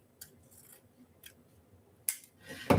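A new pair of craft scissors snips a few times in a quiet room, giving short crisp cuts spaced apart, then a louder burst of cutting and rustling near the end.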